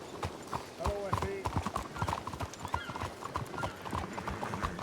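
In a horse-riding video game, hooves clip-clop in a steady rhythm and a horse whinnies briefly. Voices talk over the hoofbeats throughout.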